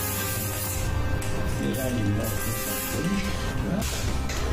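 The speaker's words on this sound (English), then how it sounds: "Now I have to spray it with a matte black spray paint that doesn't let any light through." A can of matte black spray paint is sprayed onto a lens part of a homemade solar tracker, giving close, steady hissing with a few soft knocks and rubs.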